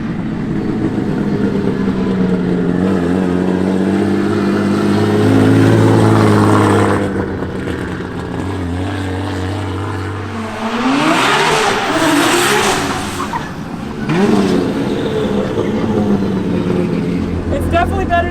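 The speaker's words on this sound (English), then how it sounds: "I'm gonna do a couple pulls, see how the new turbo setup feels" A 2JZ-swapped Nissan S15 with a new turbo setup pulling hard, its engine revving up through long, loud acceleration runs with shifts and a later surging rev, with a voice talking at points.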